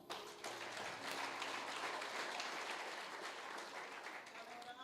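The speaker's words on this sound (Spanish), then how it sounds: "Dale un fuerte aplauso al Señor." A church congregation applauds during a sermon, a continuous wash of clapping that is faint and distant, with some tonal hum underneath.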